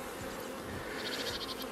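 Honeybees buzz steadily around an open hive with white wax on the frames, a dense, continuous drone close by with no talk over it.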